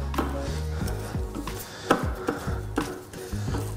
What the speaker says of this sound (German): Die kommen in unseren Topf hinein und werden, wie immer, 5 Sekunden auf Stufe 5 geschreddert.